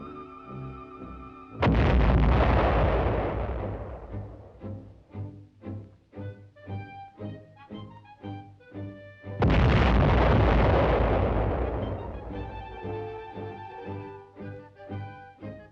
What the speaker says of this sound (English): That's the gun, the great gun in action.